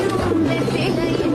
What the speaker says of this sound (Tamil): புறா வந்துச்சு